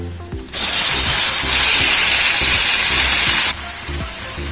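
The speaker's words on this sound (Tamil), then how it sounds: "சேர்த்துட்டு நல்லா வந்து ஒரு தடவை ஃப்ரை பண்ணிக்கலாம்" Chopped tomatoes for a tomato chutney hit hot oil in a pan with a sudden loud sizzle that hisses steadily for about three seconds, then drops back to a quieter background.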